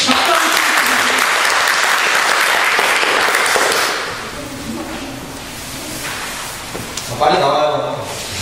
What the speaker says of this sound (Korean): 박수가 부족해서 못 나오시겠답니다.